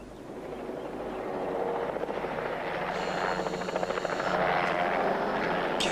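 A helicopter draws closer, its rotor chop and engine roar building steadily from a moderate distance to a louder, fuller sound and holding there without any talk.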